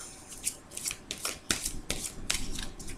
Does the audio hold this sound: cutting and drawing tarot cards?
yes